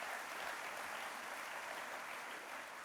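An audience at a New Year's greetings ceremony for a town's mayor and first deputy mayor applauds in a soft, uniform patter of many hands that sounds distant and faint and runs for a few seconds.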